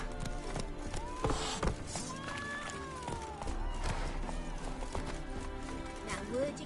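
Horse galloping in The Witcher video game, a steady stream of hoof clip-clops under game music and dialogue, with a voice urging the horse on.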